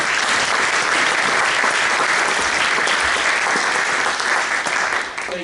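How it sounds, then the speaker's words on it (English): Sustained audience applause at a speaker series on Dickinson County railroads held at an art center, loud and even clapping from a full room that tapers off near the end. "let's give Jeff Wagner a great big round of applause."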